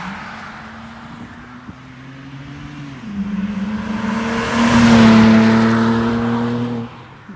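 A BMW 328i with a muffler delete drives past, its raspy exhaust drone swelling as it accelerates and gets nearer, peaking loud mid-pass before easing slightly as it moves away.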